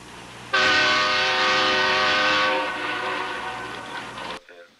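A train horn alert blasts loud and sustained for about four seconds as a stream's hype train begins, its steady chord of tones ending abruptly, with faint background voices.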